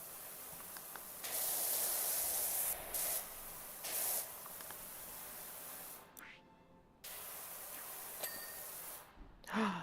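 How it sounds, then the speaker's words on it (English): Water sprays from a pressure washer in the PowerWash Simulator video game, coming in loud hissing bursts that start and stop several times, with brief quieter gaps between the jets. "I love that you can adjust the nature of the water sound"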